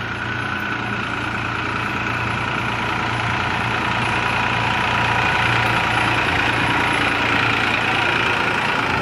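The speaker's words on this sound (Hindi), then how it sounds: "आप देख सकते हैं सामने चाचा ट्रैक्टर चला रहे हैं" A tractor being driven in a village gives a steady, loud engine drone with a low throbbing rumble throughout, close by, with no speech over it.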